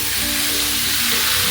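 Grated beetroot fries in ghee with cashews for beetroot halwa, a dense continuous close sizzle that stays loud and even throughout, with no voices.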